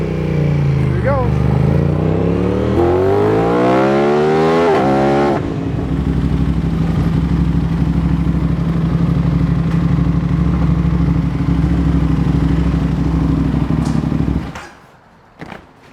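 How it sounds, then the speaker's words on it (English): An Aprilia RS 660 Factory motorcycle revs and rides off, its engine rising and falling through several throttle blips before settling to a steady drone, then cutting out near the end, with people talking over it. "That's a funny sound. Talk about squeaky brakes."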